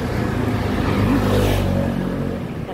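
Cars speed past close along a roadside, a steady loud roar of engines and tyres that swells to a peak midway and eases off, with no talking.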